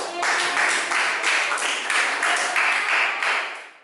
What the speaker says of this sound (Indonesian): Tepuk tangan dulu buat Karin.